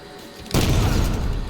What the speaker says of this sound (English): They're tossing pulse, sticky nades up at me.